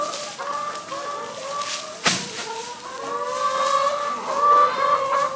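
Chickens cluck and call in scattered straw in cold weather, a rooster crowing partway through, with steady nearby clucking and a sharp rustle or peck.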